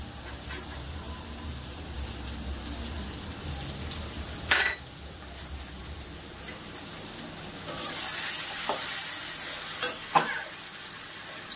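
Cumin and chili powder paste sizzles and fries in a pan for katla fish curry while being stirred, a steady low hiss broken by a few sharp scraping knocks and a brighter sizzling surge midway.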